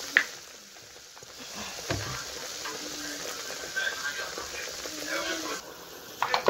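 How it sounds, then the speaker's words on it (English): Palm oil sizzles in a pot while bitter leaf soup is cooked, a steady frying hiss with occasional clatter and stirring, fairly close. "I'm going to be adding my palm oil."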